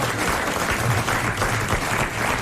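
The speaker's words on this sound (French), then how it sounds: "on applaudit Léon Zitrone." A studio audience at a 1994 French radio comedy panel show applauds: dense, sustained clapping that fills the room at a steady, loud level throughout, with no clear talk over it.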